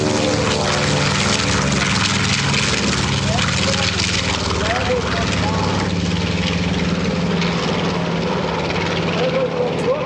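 Warbird propeller airplane flying at EAA AirVenture, a steady loud droning engine roar that holds throughout, with a public-address voice talking over it.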